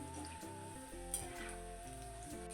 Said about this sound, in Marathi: तर बडे चांगले असे क्रिस्पी तळून घ्यायचे आहेत